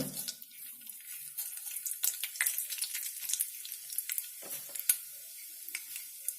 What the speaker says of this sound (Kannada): ಎಣ್ಣೆ ಬಿಸಿ ಆಗಿದೆ, ಸಾಸಿವೆ ಹಾಕೊಳ್ಳೋಣ.